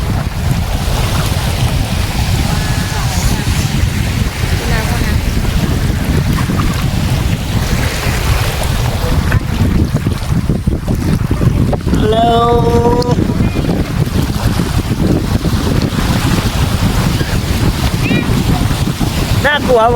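Strong wind blows across the sea at Nakai beach, a loud, constant roar of wind buffeting the microphone, with waves and surf rushing beneath and brief voices faintly mixed in.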